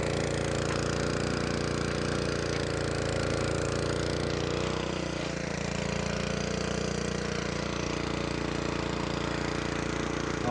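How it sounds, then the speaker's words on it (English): A walk-behind rototiller's small engine runs steadily and loudly throughout in a garden, a continuous chugging drone close by. "I wouldn't walk behind a tractor such as this"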